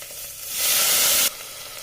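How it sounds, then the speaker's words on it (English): Chopped tomatoes dropped into a hot tempering of mustard seeds, hing, curry leaves and garlic: a sudden loud hiss and sizzle swells, holds briefly, then drops back to a steady low frying crackle. "half a teaspoon of mustard seeds, hing, curry leaves, garlic, and then I add in tomatoes"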